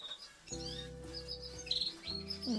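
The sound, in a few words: canaries chirping in a breeding room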